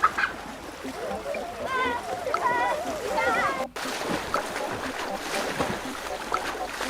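Water splashes and churns as children climb into a swimming pool, a busy, fairly close wash of sound lasting several seconds, with bright chirping tones and voices mixed in.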